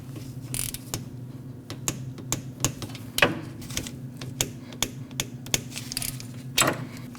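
A wrench ratcheting and tightening rear brake bolts on a Jeep Cherokee, with sharp clicks and creaks at irregular intervals over a steady low mechanical hum, close and fairly quiet, no talking.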